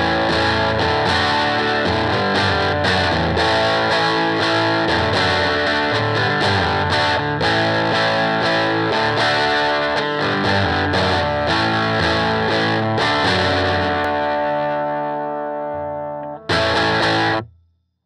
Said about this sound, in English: Or we can crank it up for full-on crunch distortion.